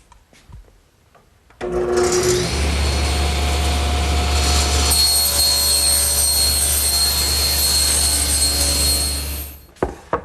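A table saw fitted with a homemade panel cutter squares up one end of a panel blank, a loud steady motor whine rising and holding for about eight seconds before winding down.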